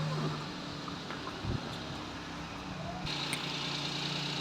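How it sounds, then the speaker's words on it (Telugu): A petrol Alto car engine idles at low volume with a steady, even hum, and a few faint knocks and rattles come through over the running motor. "స్టార్ట్ చేసాము. ఇంజన్ స్టార్టింగ్ పొజిషన్లో చూడండి"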